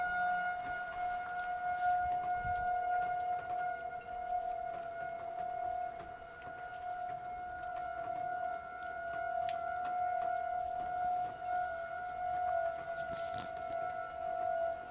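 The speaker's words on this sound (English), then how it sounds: "Holy tornado sirens, Batman." Tornado sirens wail steadily outdoors in cold weather, a sustained distant tone held for the whole stretch over faint background noise.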